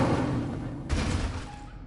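Incendio fire spell cast in Hogwarts Legacy, a short dense rush of noise with a sharp thumping burst in the middle, loud and close, trailing off quickly.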